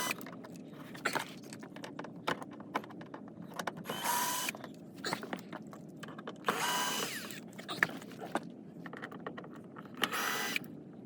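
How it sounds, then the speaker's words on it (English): Working on the door sill of a car, a power drill whirs in several short bursts as it removes screws, mixed with clicks, metallic rattles and handling noises, all fairly quiet and close. "I'll probably switch to my drill here in a little bit and take all these screws out"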